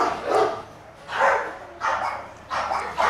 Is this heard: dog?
yes